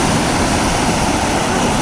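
Loud, steady roar of sea waves crashing against the shore, a continuous broadband wash of surf close by with no voices.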